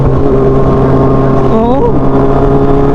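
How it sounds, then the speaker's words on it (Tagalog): A group of motorcycles on a cool evening ride, engines droning steadily close by, with one rising rev sweeping up and falling away midway, heard over continuous road noise. "Ang dami pang motor sa likod, oh."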